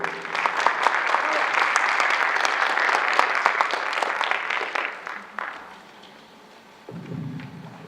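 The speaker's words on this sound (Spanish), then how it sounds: "Con un fuerte aplauso, por favor." An audience at an international symposium breaks into loud, sustained applause that holds for about five seconds before thinning out. A few scattered claps linger at the end, and then a voice starts speaking close to the microphone.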